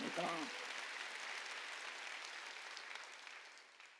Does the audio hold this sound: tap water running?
no